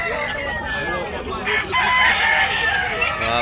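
A white rooster crows loudly and close by in one long drawn-out call, with people talking faintly in the background.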